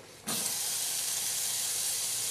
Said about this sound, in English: And you're going to hear it sizzle.